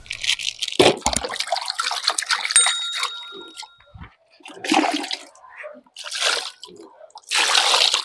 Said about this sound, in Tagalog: So ngayon po ay maghuhugas na lang po ako sa akin pong hands.